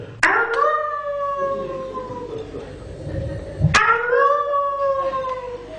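A comedian imitating a coyote with his voice, giving two loud, long wavering howls that start with a sharp yelp and slide down in pitch, separated by a short pause, with no other talk.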